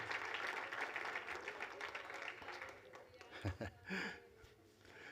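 A church congregation claps and applauds, a dense, steady patter under a voice that continues speaking, with the clapping thinning toward the end.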